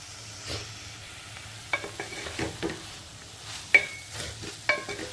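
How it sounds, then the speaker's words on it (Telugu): Brinjal and tomato curry cooking in a pan, stirred now and then to keep it from scorching: a low, close sizzle with several scattered scrapes and clinks of a spoon against the pan. "ఇంకా మూత పెట్టుకుని మగ్గించుకుందాం మధ్య మధ్యలో కలుపుకుంటూ ఉందామండి"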